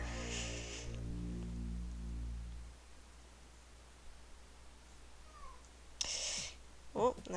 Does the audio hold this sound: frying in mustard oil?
no